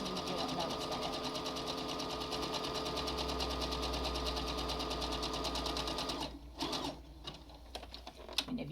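A sewing machine stitches cloth face mask fabric in a fast, steady, close whir that stops near the end, followed by a few clicks and handling sounds as the fabric is turned.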